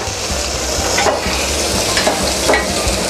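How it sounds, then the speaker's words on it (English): Tuna searing in a hot pan gives a loud, continuous sizzle and crackle, with a few brief scraping sounds from stirring or handling the fish partway through. "Now you can hear the sizzle."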